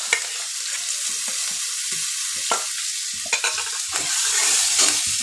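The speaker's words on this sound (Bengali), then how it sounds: "জিরে ভাজা হয়ে গেছে, এবার কাঁচা লঙ্কা কুচি দিয়ে দেবো" Chopped green chillies sizzle in a pan with cumin seeds fried in a little butter, a steady hiss broken by the scrape of a spatula stirring now and then.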